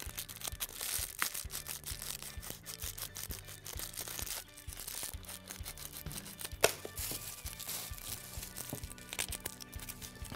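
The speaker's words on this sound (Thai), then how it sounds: "ส่วนที่เกินมาเราใช้กรรไกรตัดออกได้" Scissors snip away excess plastic sticking out of a bottle packed with plastic waste, a close series of crisp cuts amid crinkling, with one sharp louder snap partway through.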